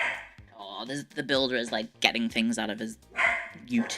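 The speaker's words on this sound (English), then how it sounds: "Sorry, she's very loud. Very loud dog." A loud pet dog named Cleo barks in sharp, close bursts over and between a woman's chatter indoors.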